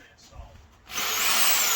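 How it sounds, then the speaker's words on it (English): Power drill with a cone bit biting into the metal of a Mk1 Caddy wheel arch during a repair, starting abruptly after a quiet moment as a loud, sustained high-pitched grinding whine. "I've got my drill with the cone drill on it"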